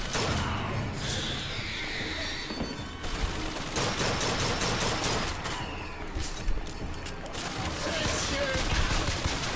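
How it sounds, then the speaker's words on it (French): Rapid machine-gun fire in the video game BioShock Infinite, dense and loud, with bursts and impacts running almost continuously over game noise and a voice talking. "Ça, c'est une mitrailleuse."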